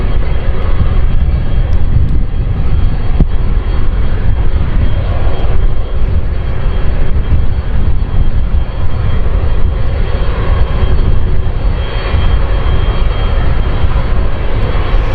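A TUI Boeing 767-300ER jet airliner on its takeoff run, a loud, sustained engine roar that holds steady with a rumbling low end and whining high tones, heard alone without talk.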